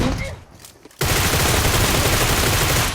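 Gunfire in the mobile battle-royale game PUBG Mobile: after a second of muffled game noise, a loud, continuous burst of rapid automatic shots fills the rest of the moment.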